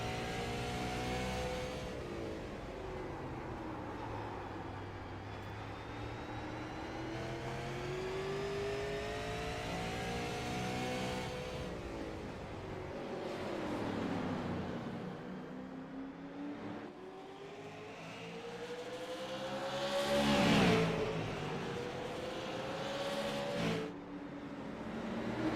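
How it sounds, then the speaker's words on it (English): A sim racing stock car brakes hard at Martinsville, engine revs sweeping downward as the RPMs drop, then climbing again; other engines drone alongside in a continuous race mix with no talk. "You hear the RPMs really come down on the 54 machine"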